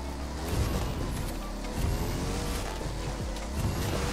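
Car engine and tyres driving through a course in the racing game The Crew 2, a steady loud roar with slight surges, running alone without talk.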